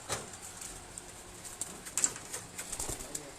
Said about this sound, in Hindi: ये सारी एक ब्रीड के कबूतर दिखाने में पहले